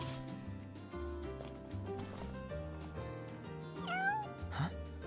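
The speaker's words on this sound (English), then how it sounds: "Hey, you're the cat we saw in Galden." A cat meows in the video game Final Fantasy XV, with a few soft, rising mews over steady background music and ambience.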